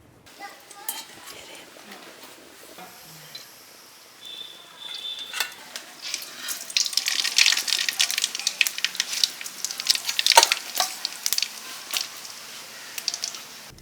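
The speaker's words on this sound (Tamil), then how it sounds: "இப்போ எண்ணெய் ஊற்றி கடுகு போடணும்." Mustard seeds dropped into hot oil for ragi puttu, a quiet start building into dense crackling and popping sizzle, with a few utensil clinks and some talk.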